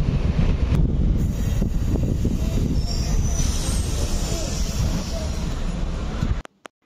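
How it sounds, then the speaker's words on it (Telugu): A Secunderabad–Siddipet DEMU train departs Lakudaram with a loud, steady rumble of wheels on rail and wind buffeting, plus faint squealing, before cutting off abruptly near the end. "సో ట్రైన్ అయితే డిపార్చర్ అయిపోయింది లకుడారం నుంచి."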